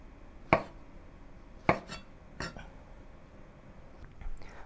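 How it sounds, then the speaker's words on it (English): A knife cuts mushrooms into thick slices on a board, making three or four sharp, close chops with uneven gaps and quiet between them. "Cut the mushrooms into thick slices."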